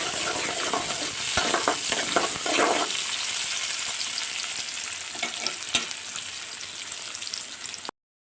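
Chopped onions fry and are stirred in a pan for sambar, with scraping utensil strokes over a continuous crackling sizzle that fades toward the end.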